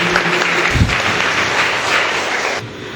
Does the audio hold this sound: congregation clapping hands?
yes